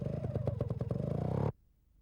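A trial motorcycle riding over rough, stepped terrain, its engine chugging in a close, pulsing rhythm of revs with rattling clatter, loud and near, then cutting off abruptly into near silence after about a second and a half.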